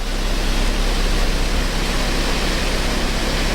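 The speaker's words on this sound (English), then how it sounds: "Oh, waterfall." A waterfall in New River Gorge sends up a constant, dense rushing roar, loud and unbroken throughout, with no voices or other sounds standing out above it.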